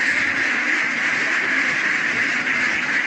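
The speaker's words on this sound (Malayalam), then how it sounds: "നമ്മൾ താറാവിനെ കൂട്ടിൽ നിന്ന് ഇറക്കുകയാണ്." A flock of ducks being let out of their coop keeps up a dense, continuous chorus of quacking that stays loud and unbroken throughout.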